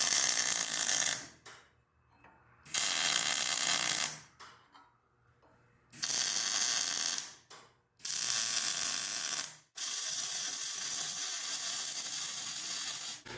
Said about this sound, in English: So now I'm just going to go ahead and weld this all up.